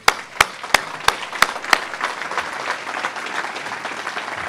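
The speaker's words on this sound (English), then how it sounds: "give the BSU president, Fred Clark, a round of applause while he comes up here." An annual meeting audience applauds a university president. A few sharp, close claps ring out at a steady beat, then a broad wash of crowd applause continues evenly.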